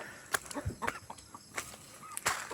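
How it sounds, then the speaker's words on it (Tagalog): Pet chickens cluck and scratch around outdoors, with a few short, soft clucks and rustles spread across a quiet background. "ating alagang mga manok."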